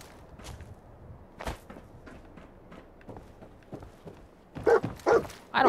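Dogmeat, the companion dog in the video game Fallout 4, barks several times in sharp bursts near the end, after quieter game sounds and footsteps.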